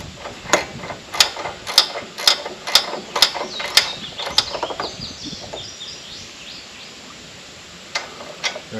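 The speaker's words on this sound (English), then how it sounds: "I finish tightening them down with the ratchet" A ratchet tightens bolts on a replacement starter for a Kawasaki FX850V engine on a Wright ZK61 mower, a run of about a dozen sharp evenly spaced clicks up close, then a quieter pause and a couple of final clicks.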